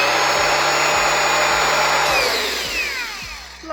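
A Denzel BLG-IB-18-02 cordless angle grinder runs with a loud, high-pitched motor whine, then its pitch falls steadily as the disc spins down.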